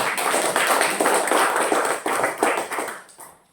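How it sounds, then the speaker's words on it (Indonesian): A group claps together, a busy rapid patter of hands that swells and then fades out toward the end, with no talking. "Coba kasih tepuk tangan dulu."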